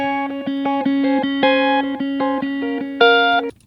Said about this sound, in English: let's say, this clean electric guitar,